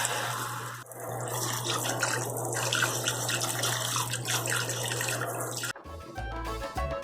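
Tap water runs steadily over vegetables being washed in a kitchen sink before making spicy pepper jelly, a continuous close rush with brief interruptions and a clatter near the end.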